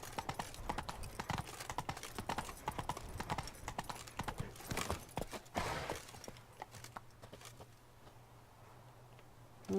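Roach the horse galloping in The Witcher 3, rapid rhythmic hoofbeats clip-clopping loudly for several seconds, then fading into quieter ambient game sound.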